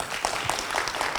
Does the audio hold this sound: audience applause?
yes